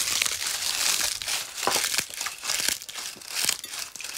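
Leaves crumpled and kneaded by hand to imitate chewing: close, crisp crinkling and crunching in uneven bursts with short pauses, loud and dry, with no talking.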